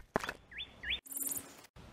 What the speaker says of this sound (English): To hold that bird in the background over here, that cardinal yelling